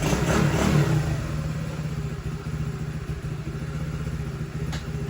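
A Honda CT70 K3 motorcycle engine revs briefly at the start, then settles into a steady, slightly uneven idle that stays loud and close.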